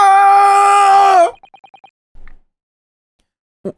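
A high-pitched video game scream rings out from inside a cabin, a sustained shrill cry lasting about a second that cuts off abruptly, followed by a few short electronic blips and a soft thud, all close and clear.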